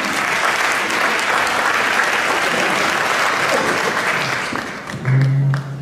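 Loud, dense applause from a lecture audience at a micropigmentation presentation fills the whole stretch at a steady level, then thins near the end as a brief voice cuts in.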